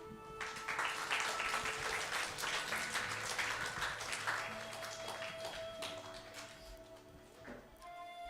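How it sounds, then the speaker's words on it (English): An audience applauds after a girls' play at an Easwaramma Day celebration in a Sai centre, sustained clapping that thins slightly toward the end, with a faint tonal hum and some background sounds beneath. "enormous round of applause for the wonderful play of the Group 1, 2 and 3 girls."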